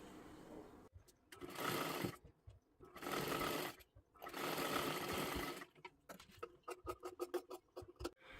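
A sewing machine stitches a puffed sleeve seam in a tailoring setting, running in several bursts of rapid steady chatter separated by short pauses. Quicker stop-start taps end the clip, with no talking.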